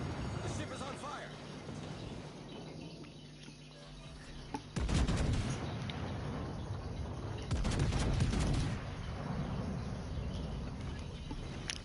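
Naval guns firing in World of Warships Legends, heavy booming salvos around the midpoint and again a few seconds later, with crackling battle noise between and someone talking over the action.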